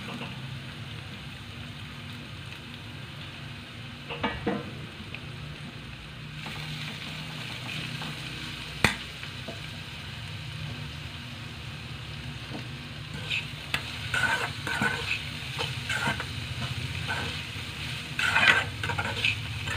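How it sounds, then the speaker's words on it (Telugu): Grated garlic and ginger fry in a pan for veg momo filling, giving a steady, continuous sizzle with occasional scraping stirs and light clinks throughout. "ఇదంతా పచ్చి వాసన పోయి బ్రౌన్ కలర్ వచ్చిన దాకా వేపుదామండి"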